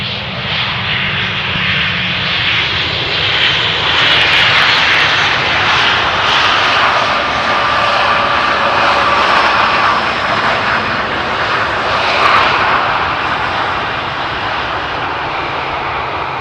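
A fixed-wing passenger airliner landing on runway 18R at Amsterdam Schiphol Airport in light wind, a steady loud engine roar that stays dense and continuous throughout, with no talk.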